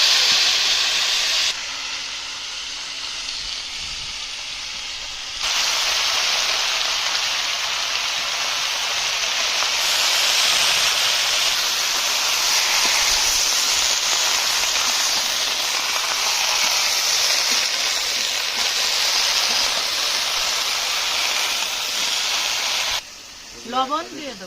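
Bottle gourd greens with small hilsa and cumin seed sizzle hard in hot oil, a dense, steady frying hiss that swells louder after a few seconds and holds close and continuous until a brief clatter at the end.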